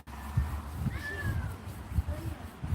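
A cat meows a few times at close range, with soft background noise and some low rumbling underneath.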